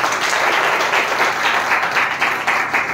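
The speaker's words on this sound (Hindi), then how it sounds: "ताली बजा के परमेश्वर को धन्यवाद" A congregation claps during a Hindi-language Christian sermon: steady, dense applause that stays loud and even for the full stretch, with no speech on top.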